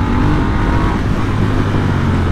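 A 1200cc motorcycle engine, an upright road-going enduro, runs with a loud, steady, deep roar throughout, close by and with no talk over it.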